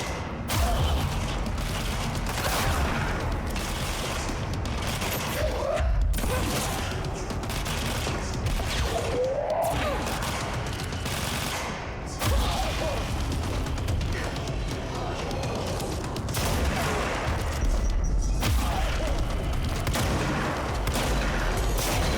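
Repeated gunshots and heavy firefight noise from the action game Control, sustained rapid fire with booms and mechanical clatter, loud and near throughout.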